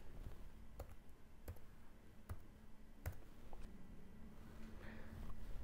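Digits typed on an iPhone screen to relink an iPod Touch Keynote remote: a handful of soft, sharp taps spaced about a second apart, faint and close, over quiet room hiss.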